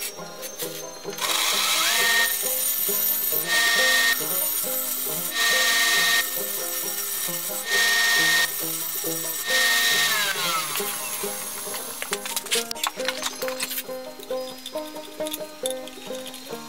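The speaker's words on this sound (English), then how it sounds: "that grinder did a real nice job of sharpening that up there" A grinder sharpening a piece of metal whines steadily while grinding in about five regular, loud bursts separated by short lulls, then turns to rougher, scraping contact toward the end, with no talking.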